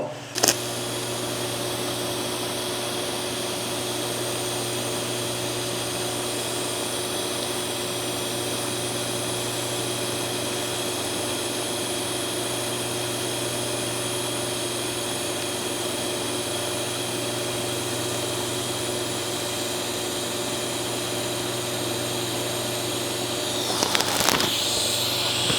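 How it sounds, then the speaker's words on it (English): A welder with a number 8 cup lays a bead on a stainless steel airboat winch bracket, giving a steady, unbroken electric hum and hiss for over twenty seconds, ending with a brief clatter. "So we're gonna go ahead and get some weld on this."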